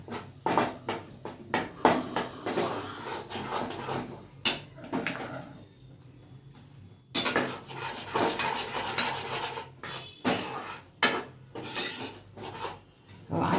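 A spoon scrapes and stirs katla mixture with ghee as it roasts in a pan, rasping strokes repeating in uneven bursts with a brief quiet pause midway, close and moderately loud.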